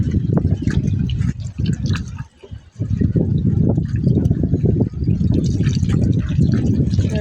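Water poured from a hose or can onto papaya and eggplant plants in a rooftop garden, splashing steadily and continuously close by, with a brief lull partway through.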